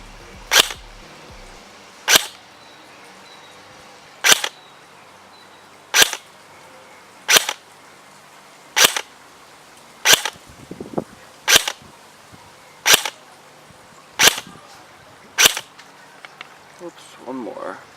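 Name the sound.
KWA Ronin PDW airsoft gun firing 0.28 gram BBs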